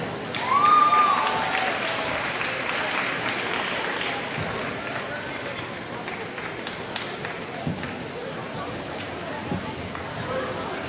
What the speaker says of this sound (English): can we have another round of applause for these seniors?